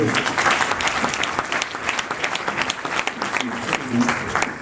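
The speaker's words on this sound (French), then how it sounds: "vous pouvez encore l'applaudir" Audience applause for a speaker at a French-language event, dense steady clapping from a crowd filling the whole stretch with a few faint voices mixed in.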